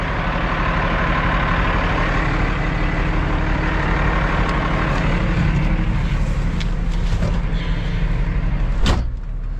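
Truck rumbling low and steady while being repositioned in a parking spot, a loud continuous engine drone with a sharp knock or clunk near the end.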